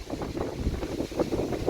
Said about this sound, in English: Sorry it's so windy out here.